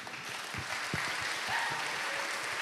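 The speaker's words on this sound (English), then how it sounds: "Please join me in giving them a heartfelt round of applause." Applause at a Catholic school senior graduation ceremony, steady clapping from a crowd filling the room with no talk.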